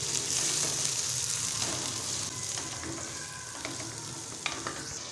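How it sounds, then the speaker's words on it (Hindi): Finely chopped tomatoes fry in oil after onions in a pan for savory vermicelli, a steady moderate sizzle that eases off, with a few light clicks of a utensil and no voices. "टमाटर को हमने थोड़ा सा फ्राई करना है"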